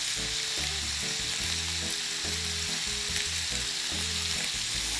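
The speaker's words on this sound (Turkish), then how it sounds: "etler pişene kadar, şöyle güzelce renk alana kadar soteliyorum" Diced beef tenderloin seasoned with salt and black pepper sautéing in a hot pan for tantuni: a loud, dense, unbroken sizzle with a low, rhythmic music track underneath.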